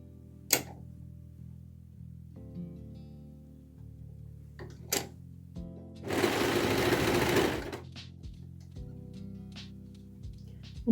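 A sewing machine stitches a dress seam in one steady, close whirring run of about two seconds, with a few soft clicks and clunks before and after.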